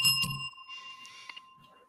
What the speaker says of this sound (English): I'm going to ring the beer bell